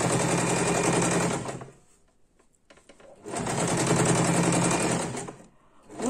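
Sewing machine stitching alternating light green and dark green fabric patchwork pieces for a quilt block, running in two loud steady bursts with a short pause between them.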